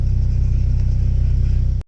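A Toyota Supra engine at a Japanese car show idles with a loud, steady, lumpy rumble, pulsing evenly for nearly two seconds before cutting off abruptly.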